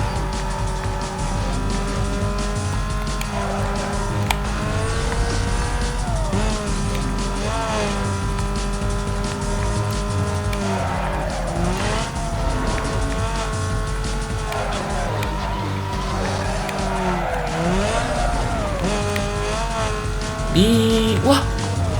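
A car in Need for Speed: Most Wanted braking hard, its tires squealing through a continuous loud racing-engine drone with shifting pitch, while a person talks over the game.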